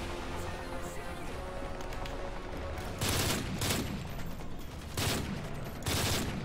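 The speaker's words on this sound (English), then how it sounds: "this guy can hip fire me from that far with the AK-47" Bursts of AK-47 fire in Modern Warfare 3 Spec Ops, rattling over steady in-game background noise, with several short volleys around the middle and end.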